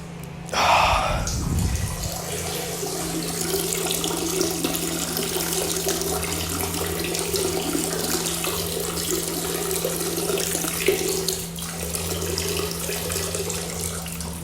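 A man urinates in a steady stream of liquid splashing into water, continuous and close for the whole stretch, with faint background hum.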